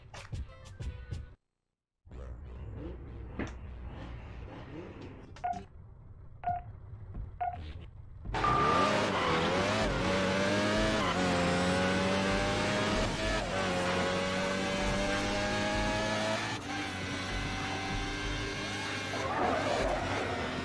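Motorcycle racing in the video game Midnight Club 3 starts with several short beeps and clicks, then an engine bursts in and revs high and loud, pitch rising and falling through gear changes for the rest of the run.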